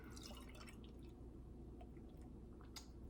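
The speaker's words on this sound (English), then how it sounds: "But let's get a pour into it." Oatmeal stout beer poured from a bottle into a glass, a soft, quiet trickling and dripping of liquid over low background hum, with no talking.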